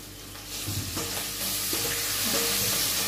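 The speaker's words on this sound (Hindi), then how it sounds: "अभी शिमला मिर्च और प्याज को मैंने हल्का हल्का पका लिया है, तो अभी गैस को फ्लेम को लो कर दिया।" Bell pepper and onion fry in a pan over a gas flame, a steady close sizzle that swells to a louder hiss partway through, broken by a few scraping stirs.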